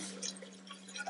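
Water from a tap rinses over a Sony Xperia Z phone in a steady close splashing trickle with drippy patter, no talking.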